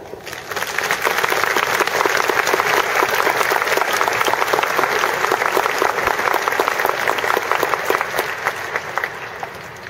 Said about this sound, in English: So let's start with a big congratulations and applaud each and every one of you